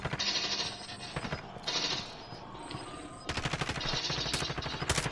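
Gunfire in Call of Duty: Warzone sounds in bursts of rapid automatic shots, some sharp and near, others thinner and farther off, with brief pauses between volleys and no talk.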